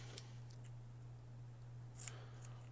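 Scissors snip through thin thermal tape during a Nintendo Switch modding job, giving two or three faint, crisp cuts spaced apart over a steady low electrical hum, with no talking.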